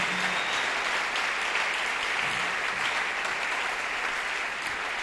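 A church congregation at an assembly breaks into sustained, dense applause, many hands clapping loudly and continuously with a faint murmur of voices.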